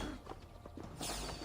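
A horse moves in the Assassin's Creed Valhalla video game with quick, light hoof clops in an uneven rhythm, fairly faint against a low game background, followed by a short whoosh.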